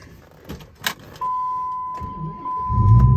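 A 2005 Dodge Ram SRT10 pickup with a Hennessey Venom 650R upgrade: a key clicks, a steady electronic chime sounds, then the engine cranks and catches into a deep rumble, close and loud.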